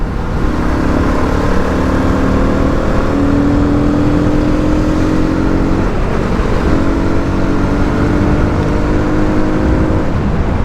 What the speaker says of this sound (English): No matter which gear it is, just pull the throttle and you'll get the performance.